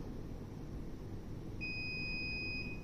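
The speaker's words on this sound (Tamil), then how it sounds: "A8 வந்து லாங் பீப் கேட்குது" A Daikin air conditioner indoor unit sounds a long, steady electronic error beep for an A8 fault. The tone starts partway through and holds for about a second over a low background hum.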